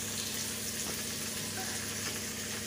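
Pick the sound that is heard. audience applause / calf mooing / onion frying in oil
onion frying in oil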